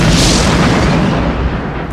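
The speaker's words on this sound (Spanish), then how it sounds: "Y hace falta una explosión." Loud, deep explosion boom filling the clip with a broad rumbling roar that decays slowly, like a sound-effect blast standing in for the cosmic big bang.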